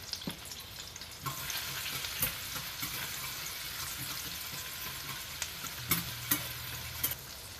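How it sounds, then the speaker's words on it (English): Minced garlic fries in a pan for a white mushroom and artichoke pizza topping, giving a steady, moderately loud sizzle with a few sharp utensil scrapes and taps near the end, and no talking. "next I'm going to add my minced garlic. And I'm not going to let this fry for very long at all"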